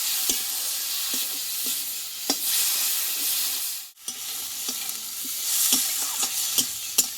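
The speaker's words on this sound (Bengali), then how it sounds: "মশলাটা একসঙ্গে ভালোভাবে কষিয়ে নেব" Spice paste with turmeric sautés in a pan, a continuous close sizzle and hiss punctuated by occasional spatula scrapes and a brief dropout midway.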